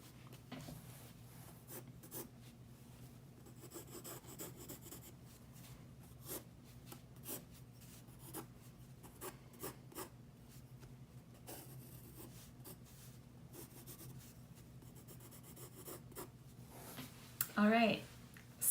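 Pencil drawing lines on paper with varied line weight, soft repeated scratchy strokes at close range, faint throughout, with a louder scrape near the end.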